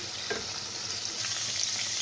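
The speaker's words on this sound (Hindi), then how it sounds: "चिकन यहाँ पे बहुत अच्छे से कुक हो चुकी है, फ्राई हो चुकी है" Chicken frying in hot oil for a dhaba-style karahi gives a steady, close, crackling sizzle with small pops and stirring noises throughout, and no talking.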